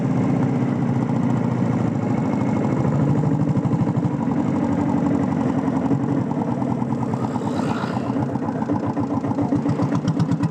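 A diesel Bullet motorcycle engine thumps along in a steady, rapid exhaust beat from the silencer, loud and close, with a continuous low rumble and no talking.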